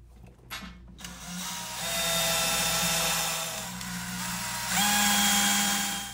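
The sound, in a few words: screws being driven around the chicken plucker drum perimeter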